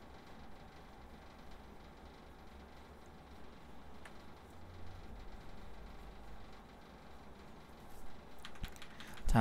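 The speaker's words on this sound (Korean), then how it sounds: "다시 딜리트 키를 열심히 눌러서 바이오스에 들어가면" A computer keyboard key is tapped repeatedly to enter the BIOS of an AMD Zen4 Gigabyte PC, faint scattered clicks over a quiet low hum, ending in a louder clatter.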